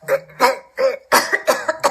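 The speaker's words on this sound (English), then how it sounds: "made a gagging cough sound" A series of rapid, choking coughs and throat sounds, several bursts in quick succession, close and fairly loud.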